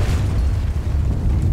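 A cannon blast in the video game Alice: Madness Returns, a loud, close boom with a dense low rumble that fills the whole moment without a break.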